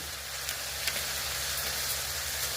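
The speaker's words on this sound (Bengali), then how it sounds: "এবার আমরা একটু দেবো তড়কা মশলা, দিয়ে দেবো একটু" Tadka masala sizzling steadily in a pan with rajma for a vegetarian Bengali kidney bean dish, a continuous close frying hiss with a few faint ticks and no talking.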